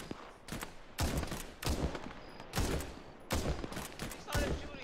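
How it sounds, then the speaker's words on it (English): Gunfire in the military shooter game ARMA 3: several sharp, loud shots and short bursts spaced about a second apart, with rattling echoes between them, fairly close. "now they're shooting at me"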